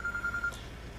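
A telephone in a movie scene gives a quick series of short, evenly spaced electronic ring pulses, faint against a low background hum, then stops.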